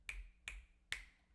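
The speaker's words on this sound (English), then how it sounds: "This is like a snappy one." A snappy finger-snap drum sample in FL Studio plays as three crisp, dry snaps in an even rhythm, close and isolated, each with a sharp attack and quick decay.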